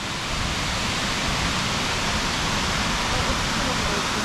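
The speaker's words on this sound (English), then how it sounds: "The waterfall is actually pretty gorgeous, called Fishhawk Falls." Fishhawk Falls, a waterfall, gives off a loud, dense, constant rushing hiss across the whole clip, with no breaks or rhythm.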